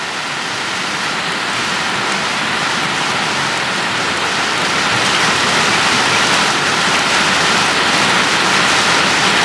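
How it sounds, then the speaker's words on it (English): Heavy rain from a rainstorm on a farm with ducks pours down steadily, a loud, dense hiss and patter that stays constant throughout with no voices. "Well, we got another rainstorm."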